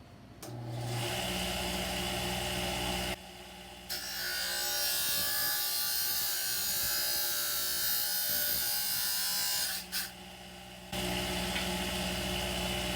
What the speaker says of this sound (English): I'm going to go to my cutting wheel here. Sorry for the noise.